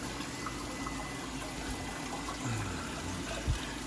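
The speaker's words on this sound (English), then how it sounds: "I just have it on like a little drip, so it slowly drips into the stand." Aquarium water runs slowly from a tank into the stand below in a thin, steady trickle, a soft continuous wash with a faint gurgle near the end, heard alone.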